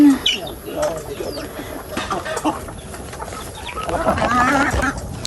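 Chickens cluck and squawk nearby amid outdoor bustle, with people talking over them throughout.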